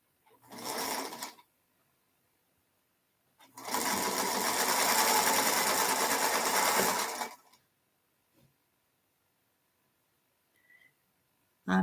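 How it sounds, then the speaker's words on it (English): A sewing machine runs in two bursts, a short one near the start and a longer steady run of several seconds, close and fairly loud with quiet gaps between. "I'm gonna sew"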